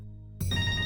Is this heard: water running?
no